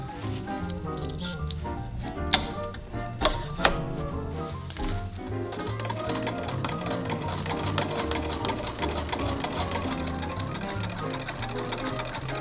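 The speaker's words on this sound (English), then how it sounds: "I'm just going to consolidate my lining pieces by pinning and stitching them together" Sewing machine stitching pinned dress lining pieces together for an 1890s-style gown, a steady fast mechanical whir with rhythmic needle clatter and a few sharp clinks, close and continuous.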